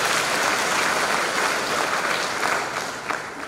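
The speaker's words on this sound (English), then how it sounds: "Clap for him" A church congregation at a chapel sermon breaks into dense, continuous applause that fills the room, loud and steady before easing slightly at the close.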